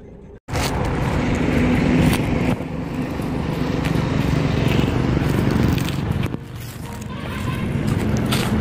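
A car engine runs loudly and close throughout as the vehicle is pulled in and parked near a poplar farm in India, a steady rumble after a brief quiet start, with faint speech underneath.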